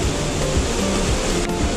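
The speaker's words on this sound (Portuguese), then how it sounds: "Venham visitar aqui as cachoeiras do Tchitchalala!" A waterfall at the Tchitchalala falls roars steadily, a loud, close, continuous rush of pouring water like heavy rain, filling the whole moment.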